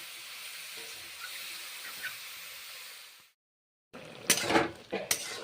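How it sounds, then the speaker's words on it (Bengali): Mushrooms coated in salt and turmeric fry in a pan with a steady soft hiss, then after a brief silence come louder clinks and scrapes of a utensil stirring against the pan. "ভেজে নিচ্ছি এইভাবে মাশরুমগুলোকে।"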